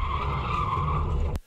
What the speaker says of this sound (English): He then jumps in his car and drives up Tantalus Drive, seemingly out of control, which is the purpose of drifting.